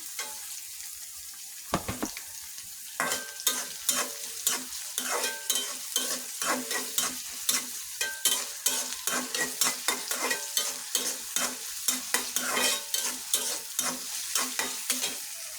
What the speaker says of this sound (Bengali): ভালোভাবে নাড়াচাড়া করে নিই।